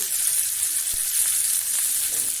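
Cauliflower lightly frying in a pan, a bright, even sizzle with one brief knock from a utensil, close and continuous.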